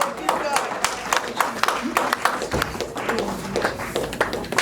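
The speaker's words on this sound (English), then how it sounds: "Clap for Jesus wherever you are" A church congregation claps hands in a fast, uneven rhythm of sharp, bright slaps, many hands together at close range, while a preacher keeps talking over the clapping throughout.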